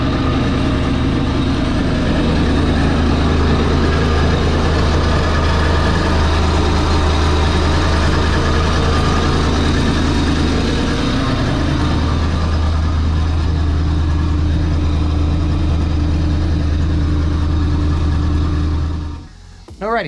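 Yamaha jet boat engines idle with a steady, loud low rumble close by, running evenly for a long stretch before cutting off abruptly near the end.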